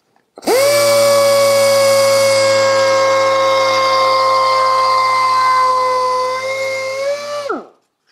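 A random orbital sander whirs up to a loud steady hum, runs evenly for several seconds, then winds down to silence.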